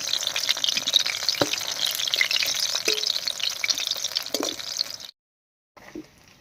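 Pumpkin leaf fritters sizzle steadily in hot oil for about five seconds, with a few louder crackles and spatters, before the sound cuts out briefly and a short burst of frying returns.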